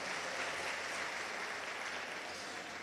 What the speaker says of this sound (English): Can we please give Mr. Coutier another warm round of applause?